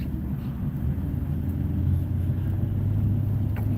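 A low, steady engine rumble from a Dodge Neon rolls along a street nearby, a continuous drone without distinct passes or voices.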